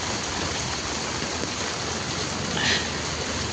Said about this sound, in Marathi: बघा पाऊस.